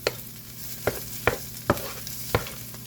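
Tomato paste is stirred into Italian sausage and potatoes in a hot pan, with several scraping strokes spaced about half a second apart over a steady sizzle.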